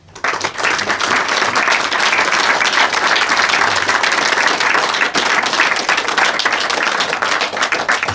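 A hall audience at a Ciné17 event with the Vieux Grenadiers gives sustained, dense applause, many hands clapping steadily and loudly for the full duration without a break.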